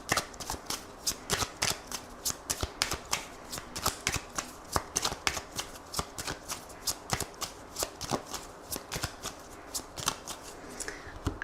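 A 32-card deck is shuffled for a tarot reading, giving rapid, crisp card riffles and slaps in a steady rhythm up close, with no talking.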